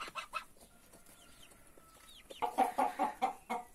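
Parent-flock chickens and a young rooster's offspring cluck and call in a farmyard, a few scattered calls at first and then a denser burst of loud, close clucking in the final second and a half.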